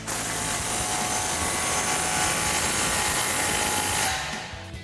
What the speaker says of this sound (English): Grab our impact and 15mm socket and tighten that down.